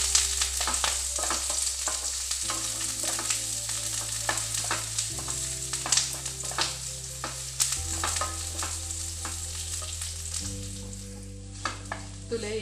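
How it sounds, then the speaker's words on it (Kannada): Onions fry in a pan for chicken ghee roast, giving a loud, continuous sizzle with occasional stirring clatter, under background music. "ಶೋಕುಡು ಫ್ರೈ ಮಾಡ್ಕೊಡ"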